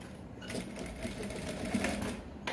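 Close, fairly quiet sewing machine stitching a half-inch seam on a male senator top, a steady rapid needle chatter running without a break for a couple of seconds.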